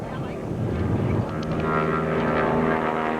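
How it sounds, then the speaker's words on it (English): A 5,700-pound propeller airplane performing a snap roll at the 1993 Chatham, Ontario Kinsmen Airshow, its steady engine drone heard from a distance, with a commentator's voice talking over it throughout. "Rolling that airplane right over in the snap roll."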